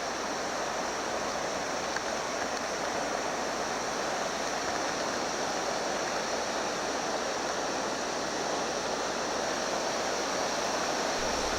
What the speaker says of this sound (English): Now we are at the confluence of another river feeding into the Baillie.